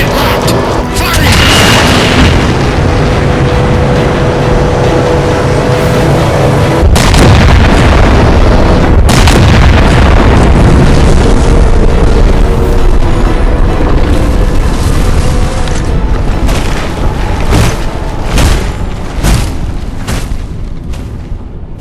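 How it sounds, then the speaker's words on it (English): Heavy weapon fire and explosions in the video game Halo 4: continuous loud booming blasts and crashing impacts roll through the whole stretch, with sharp bursts stacked over a dense, rumbling battle din. "Target locked! Firing!"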